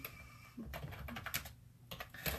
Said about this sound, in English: struggling to talk and type at the same time.